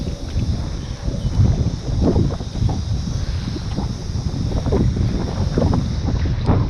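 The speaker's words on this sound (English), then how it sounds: "geez, that wind is hectic." Strong wind roars steadily across a small fishing boat on open water, a loud continuous buffeting with gusts and microphone rumble, alongside faint water slapping against the hull.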